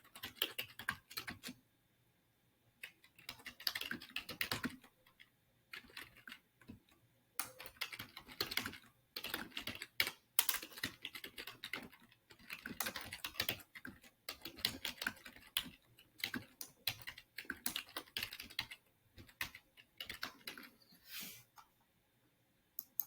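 Someone types a prompt on a computer keyboard, producing close, quiet bursts of rapid key clicks with short pauses between words and phrases, with no talking.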